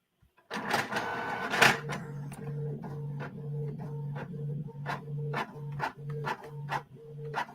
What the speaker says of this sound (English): Got to turn on the printer.